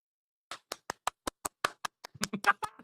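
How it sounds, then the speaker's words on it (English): A person claps hands about a dozen times in a quick, slightly uneven rhythm, close and crisp against silence. "Yes, clap for yourself."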